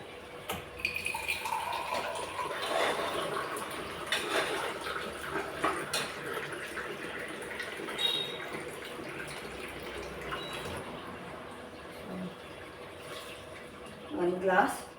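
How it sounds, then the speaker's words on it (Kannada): Water for Ambur biryani rice is poured from a glass into a cooking pot, giving a continuous splashing trickle over a low room background. "ನಾನು ಇದೇ ಗ್ಲಾಸಲ್ಲಿ 4 ಗ್ಲಾಸ್ ನೀರು ತೊಗೋಬೇಕು, 1:2 ರೇಷದಲ್ಲಿ"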